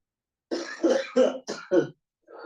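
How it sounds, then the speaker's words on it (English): A run of five harsh, chesty coughs in quick succession from a person ill with COVID-19, close and loud, followed by the start of another after a short pause. "Oh man, I'm coughing so hard."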